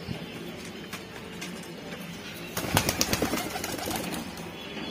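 Pigeons of the Saharanpuri and Allahabadi flying breeds in a loft, with soft shuffling and wing flutters rising to a busier burst of fluttering and scuffling midway, close by, with no voices.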